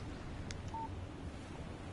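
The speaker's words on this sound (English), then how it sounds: "Text message from Barry" A short electronic beep tone from a phone text message alert in the Alan Wake video game, a single brief chime over a faint steady background hum.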